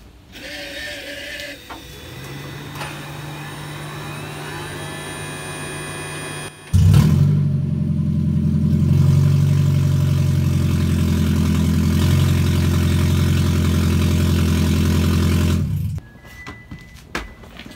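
A Toyota Prius running with its catalytic converter stolen, engine idling steadily before a sudden loud, rumbling exhaust roar that holds for about nine seconds and then cuts off abruptly.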